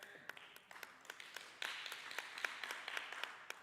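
A small round of applause follows the online launch of a climate action plan, faint scattered clapping that swells slightly partway through.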